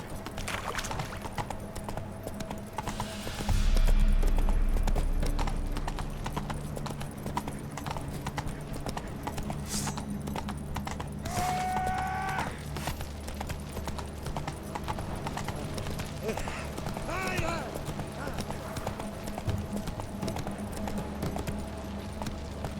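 Hooves of Roach, a horse in the video game The Witcher 3, clip-clop steadily at a gallop, with a brief whinny, over a low ambient game soundscape.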